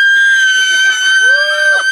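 A child screams long, loud and sustained in a screaming contest held over FaceTime, one continuous high shriek that fills the whole moment, harsh and close to the microphone.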